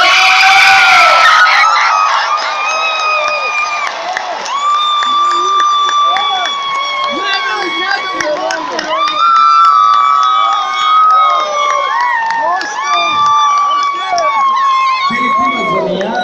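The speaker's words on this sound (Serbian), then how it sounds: "Molim vas, jedan aplauz za Filipa Disara." A large concert crowd at Dom sportova cheers loudly and continuously, with sustained shouts, whistles and chant-like tones swelling and fading for over fifteen seconds.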